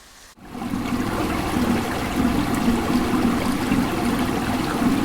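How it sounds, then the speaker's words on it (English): A motorhome cassette toilet flushes with a short click, then a steady rush of water running and trickling into the bowl, close by and continuous. "To flush the toilet, use the handle to open the cassette and then close again as shown."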